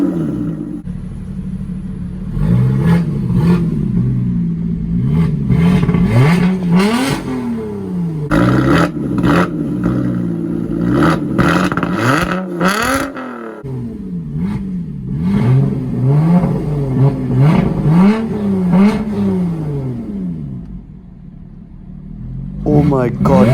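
A 2021 Lotus Evora GT engine revs loudly while driving, rising and falling through repeated gear pulls with a deep roar, heard from inside the cabin.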